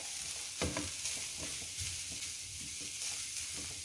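Spoon stirring onions as they dry-fry in a pan with no oil, a steady low sizzle with scattered scraping strokes throughout, close and fairly quiet.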